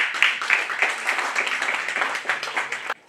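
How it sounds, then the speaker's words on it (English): A college audience at a mental health talk claps for themselves, a fairly close burst of uneven hand claps from a modest group that continues steadily before stopping abruptly. "Give a round of applause for yourself."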